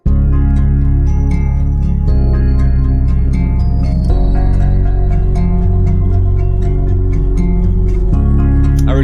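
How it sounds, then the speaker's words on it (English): Layered pop instrumental in FL Studio with guitar, bass, sub bass, pad, bells, two hook stabs and piano chords, playing as a continuous loud full mix with steady rhythmic stabs and sectional changes every two bars, no talking. "the guitar, the bass, the sub bass, the pad, the bells, the two hook stabs, and the piano chord sound like this."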